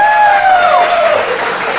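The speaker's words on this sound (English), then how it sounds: "Can we have a round of applause for Jamie this evening?" Applause and cheering from a crowd greeting a woman named Jamie as a singing telegram is delivered for her, a steady wash of clapping with a bright whistle-like tone gliding down near the start.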